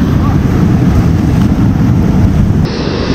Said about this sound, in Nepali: यो पानी चाहिँ अलि स्पिडमा आएको छ